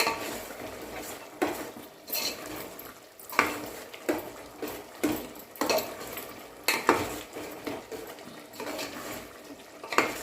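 A chicken and chukkakura sorrel leaf curry is stirred in a pan, with rhythmic scraping and clanking of a metal spoon against the pan, repeating strokes over a faint sizzle.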